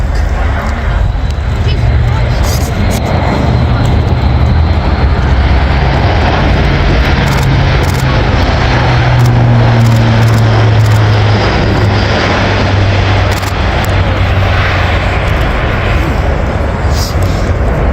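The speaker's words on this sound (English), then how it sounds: "it can carry significantly heavier loads than the C-130 and can use rough landing strips as seen here" Airbus A400 military transport aircraft on its landing run across a rough, unprepared strip, a loud continuous engine and propeller roar with heavy low rumble that stays steady throughout.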